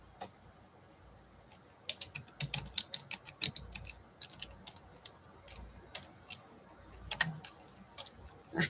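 Quiet clicking of keys on a computer keyboard, in irregular bursts of taps with pauses between them, close and soft against a faint hushed background, no voices.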